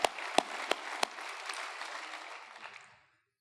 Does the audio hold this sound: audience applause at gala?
yes